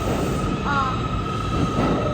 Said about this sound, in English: There's a train leaving to head towards Brooklyn now.